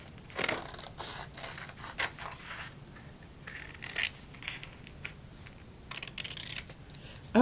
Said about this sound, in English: And for these, I am using my big scissors because I can just be quick and fast.